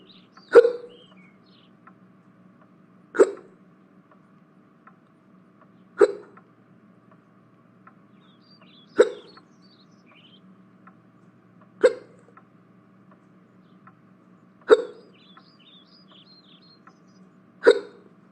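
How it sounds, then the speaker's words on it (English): A run of seven hiccups spaced about three seconds apart, each a sharp isolated hiccup sound against near silence with a faint low hum underneath. "I got the hiccups."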